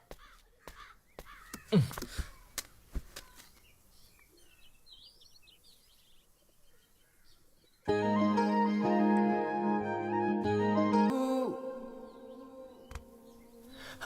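Crows caw outdoors in scattered harsh calls over quiet surroundings, before loud music takes over the second half.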